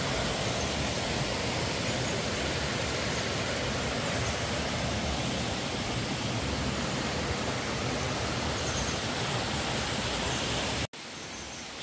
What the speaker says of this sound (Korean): 여기가 시명 폭포인가 본데요.